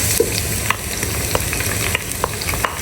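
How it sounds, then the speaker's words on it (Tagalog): Garlic and palapa sauté in a pan with a continuous crackling sizzle, dotted by sharp pops and spatters at irregular intervals, close and alone without talk. "Magigisa tayo ng ating mga palapa."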